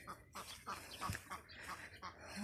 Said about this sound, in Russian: На крыльце стоит уже, крякает.